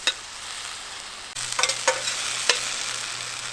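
Shrimp cook in a stainless steel pan with a constant sizzle that jumps louder partway through, joined by a few light utensil taps and scrapes, close and without voices.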